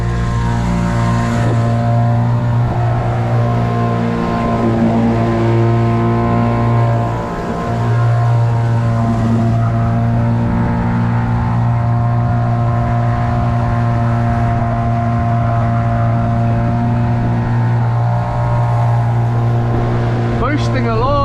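Car engine droning steadily at low revs from inside the cabin, a constant loud hum with tonal whine and no break over the whole stretch.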